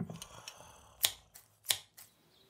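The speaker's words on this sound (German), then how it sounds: "Der Jäger schoss nicht, sondern nahm eine Schere und schnitt dem schlafenden Wolf den Bauch auf." Scissors snip through a sleeping wolf's belly in a fairy-tale scene, two sharp crisp snips standing out close and clear, with a few fainter clicks around them and no voices.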